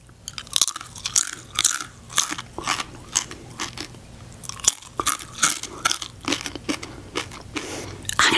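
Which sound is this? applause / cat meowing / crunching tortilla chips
crunching tortilla chips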